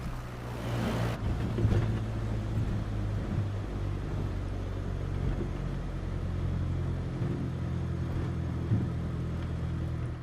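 A light aircraft's engine in Flight Simulator 2020 drones steadily at reduced throttle, a continuous low hum with a faint rushing wash above it, briefly louder in the first second before settling into an even, unbroken tone.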